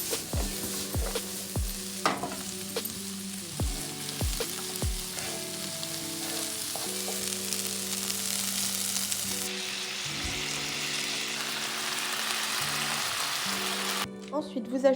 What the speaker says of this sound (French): Vous faites suer vos oignons avec les lardons.